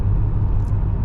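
A Volkswagen Golf R32 engine idles with a steady low rumble, close and continuous, no talking over it.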